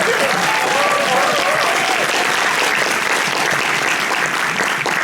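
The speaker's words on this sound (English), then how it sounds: "he deserves a round of applause for that" Loud, sustained applause from a convention panel audience at a Dallas fan expo honouring a Vietnam War veteran, a dense steady roar of many hands with faint crowd murmur.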